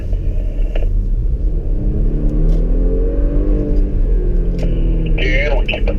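Porsche Macan S engine pulling hard out of a corner at a driving event, a loud rising rumble heard from inside the cabin with shifting harmonic sweeps, while an instructor keeps talking over it.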